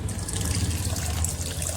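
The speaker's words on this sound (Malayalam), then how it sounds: "ഞാൻ എക്സ്ട്രാ ഒരു 1/2 ഗ്ലാസും കൂടെ വെള്ളം ചേർത്തി കൊടുക്കുന്നുണ്ട്" Water is poured into a simmering Kerala-style sardine chilli curry, a short, steady splashing stream into the pan, close and without speech.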